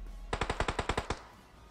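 A quick burst of about eight rapid gunshots in a row from the video game PUBG Mobile, fairly quiet and distant, over faint background hiss.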